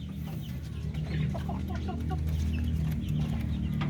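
Darag native chickens clucking steadily in a farm flock, several birds overlapping in a continuous, fairly close chorus of short clucks with a low background rumble.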